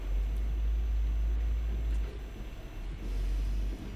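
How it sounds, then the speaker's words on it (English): A garbage truck, likely collecting recyclables, rumbles close by with a heavy low engine drone. The drone dips briefly midway, then swells again, with no talk. "another trash truck"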